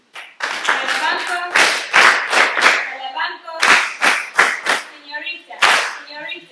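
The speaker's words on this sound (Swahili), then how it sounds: "Tujipigie makofi" An audience at a Zanzibar girls' ICT competition event bursts into scattered, uneven clapping that comes in sharp waves, mixed with a speaking voice, close and fairly loud.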